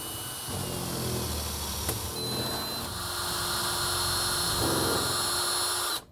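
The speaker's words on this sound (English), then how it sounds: "take a small drill and pre-drill the holes that are going to go through the cabinet" A small power drill pre-drills holes in a wooden cabinet with a steady whirring hum, pausing briefly and then resuming, fairly close and at moderate volume.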